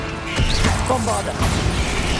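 A Bombarda explosion spell goes off in the video game Hogwarts Legacy, a loud blast with crackling impact bursts in a busy combat mix of layered effects and music.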